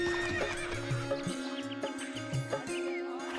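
In a cartoon, a horse pulls a tanga cart with rhythmic, evenly spaced hoof clip-clops and a whinny, over a constant tonal background with faint bird chirps.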